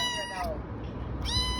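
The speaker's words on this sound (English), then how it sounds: "We just found a cat." A cat gives two drawn-out meows outdoors near a railway, close and clear, separated by a short pause with quiet background noise.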